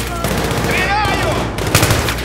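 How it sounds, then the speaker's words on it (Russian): Rapid bursts of gunfire in the Battlefield 3 video game crack loud and close through the whole moment, with a voice calling out over the shooting. "Стреляю!"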